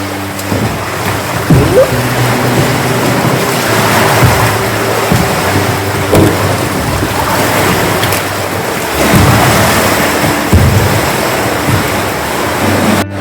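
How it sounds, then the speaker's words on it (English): Gale-force wind of up to 30 knots blows along the coast of Weld Island off western Vancouver Island, heard as a loud, continuous rushing roar that swells in gusts, with water sloshing beneath it. "we're supposed to have gale force winds today of up to 30 knots"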